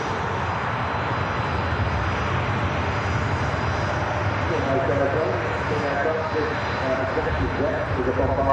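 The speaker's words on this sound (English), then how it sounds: "What a beautiful aircraft this is, the A350" An Airbus A350-1000 airliner at Manchester Airport, its engines producing a steady, loud roar that holds throughout while people talk over it.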